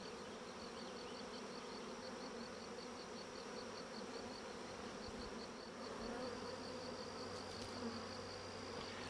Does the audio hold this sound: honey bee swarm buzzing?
yes